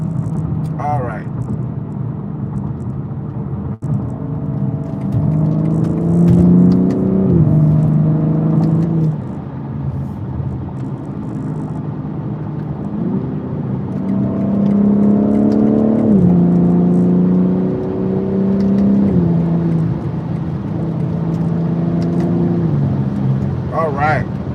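A car drives along and accelerates, its engine rising in pitch through several gear changes, steady road rumble beneath, heard from inside the cabin.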